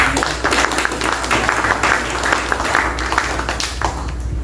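An audience at an agriculture and social agenda forum claps loudly to welcome a speaker, a continuous dense patter of many hands.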